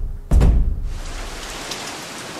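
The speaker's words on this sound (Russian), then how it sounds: "Дождь пошел." A sudden heavy thump gives way to steady, dense rain hissing on surfaces in the game Youda Survivor, constant and close with no voices.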